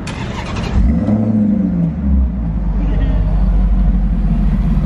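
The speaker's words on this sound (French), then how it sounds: "Le V10 là, il est mythique quand même chez Lambo." A Lamborghini Gallardo with its V10 engine revs nearby, swelling into a loud, deep surge before settling to a throaty rumble, with a voice speaking over it.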